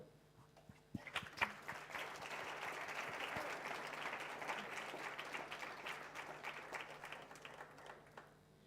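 An audience at a mathematics awards function applauds a winner, a faint murmur giving way after a sharp start to sustained, even clapping that tapers slightly toward the end.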